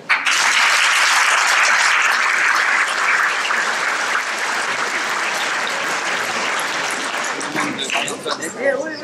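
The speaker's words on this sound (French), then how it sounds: "Je vous demande d'applaudir maintenant Jean-Marc Andréa." An audience breaks into applause for Jean-Marc Andréani, a dense burst of clapping starting sharply at full strength, then thinning and growing more uneven over several seconds.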